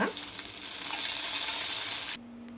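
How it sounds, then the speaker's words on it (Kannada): Green chillies fry in a pan for onion chutney, giving a steady, close hiss for about two seconds before it cuts off abruptly. "ಹಸಿಮೆಣ್ಸಿನ್ಕಾಯಿ ಈ ಥರ ಚೆನ್ನಾಗಿ ಫ್ರೈ ಆಗಬೇಕು"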